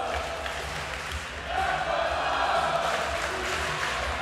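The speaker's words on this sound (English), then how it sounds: "Listen to this crowd." A wrestling crowd at an independent show cheers after a match, a broad roar that swells midway and stays loud, heard somewhat distant with commentators talking over it.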